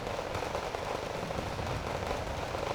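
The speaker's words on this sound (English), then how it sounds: "these guys are just going to get mowed down by machine gun fire" Dense, continuous machine gun fire in the real-time strategy game Wargame Red Dragon, a steady rattling barrage at moderate distance with no pauses and no voices.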